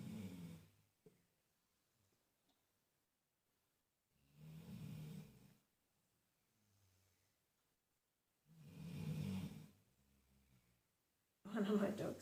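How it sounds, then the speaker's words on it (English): A pet dog indoors at home snores loudly in slow, separated bursts, each rasping breath lasting about a second with quiet gaps between, close to the listener. "One of my dogs is snoring very loudly"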